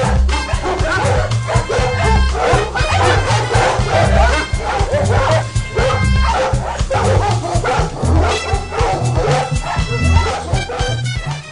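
A dog barks, yips and whimpers close by during a dog aggression test near other dogs, with repeated sharp barks mixed with whining and people chattering in the background throughout.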